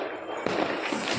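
Diwali firecrackers bursting in the surrounding neighborhood, a dense steady crackle with a sharper pop midway and further scattered bangs at a moderate distance.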